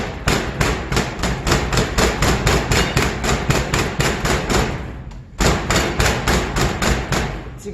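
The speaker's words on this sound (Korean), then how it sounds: "이 방망이를 이용해서 잘 두드려 줄 거예요" Wooden mallet pounding soaked rice on a resonating kitchen counter, a fast steady series of loud sharp thuds close by, pausing briefly partway before the rapid pounding resumes, with no talk.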